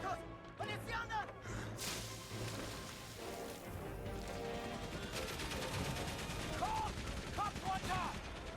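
Gunfire in the video game 11-11 Memories Retold: a constant, fairly quiet crackle of rifle and machine-gun shots under shouted voices and other battle noise.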